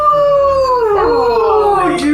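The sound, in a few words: person imitating a howl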